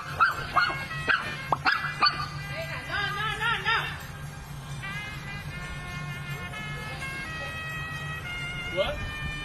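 A dog barks several times in quick sharp bursts, then a long wavering howl follows before fading under steady background hum; a person talks nearby during a live stream.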